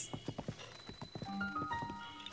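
Horse hooves clip-clop in the video game Zelda: Breath of the Wild, a quick run of steady close hoofbeats that gives way to soft game tones and chimes.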